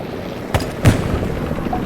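A video game helicopter thrums in the background, with two sharp bursts standing out against the continuous rotor noise.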